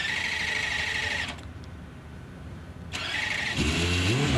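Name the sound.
hillclimb race car engine starting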